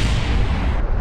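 Rocket stage decoupling in Kerbal Space Program, a loud, continuous rumbling blast that fills the whole clip with a deep roar and barely any letup, with nobody talking.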